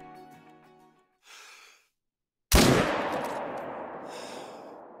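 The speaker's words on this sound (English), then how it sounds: "That was a neck shot." A loud rifle shot fired at a whitetail buck in a hunting video game, a sharp crack with a long decaying rumble, following brief breathy noises and near-silence.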